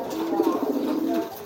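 A domestic brooding hen pigeon kept for breeding gives a soft, throaty coo, a low rolling call held close by for over a second.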